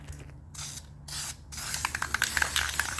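Red paint sprayed from a can onto used exhaust manifolds, short hissing bursts with brief pauses, then a longer continuous spray with faint rattling, close and fairly loud.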